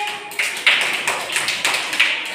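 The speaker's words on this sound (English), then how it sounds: "Clapping करिए आपने के लिए" Young schoolchildren clapping their hands in a classroom, a burst of close, bright claps with a few louder accents, steady and energetic for a couple of seconds.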